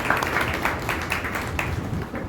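An audience at a cultural program in Thane applauding its gurus, a dense burst of many hands clapping steadily and close, tapering slightly at the end.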